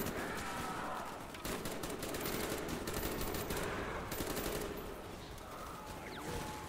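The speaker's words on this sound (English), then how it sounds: "maybe I should shoot the full group with with the baby gun" Sustained rapid gunfire from the baby gun in Call of Duty Zombies on Shangri-La rattles on continuously at a steady, dense volume, aimed at a group of zombies.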